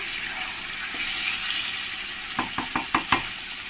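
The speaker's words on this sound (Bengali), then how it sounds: "জল দিয়ে ভালো করে আমি নেড়ে দেবো" A spoon stirs mankochu (giant taro) curry with mustard paste and a little added water in a pan, giving five quick knocking scrapes in a row near the end after a steady background hiss.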